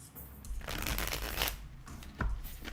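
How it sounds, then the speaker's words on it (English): Lepus Tarot cards being shuffled by hand, a stiff riffling and rustling that swells and fades in close bursts with a sharp snap near the end, no voices. "These cards just do not want to shuffle for me."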